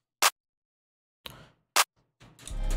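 Two sharp, bright clap hits from a drum machine in a hyperpop beat, evenly spaced, followed by a short burst of a fuller drum pattern.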